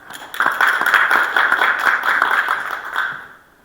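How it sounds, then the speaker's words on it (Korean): Audience applause at an alumni association board meeting, a brief burst of moderate clapping from a small crowd that swells quickly, holds for about three seconds and then tapers off. "뜨거운 박수 부탁드리겠습니다"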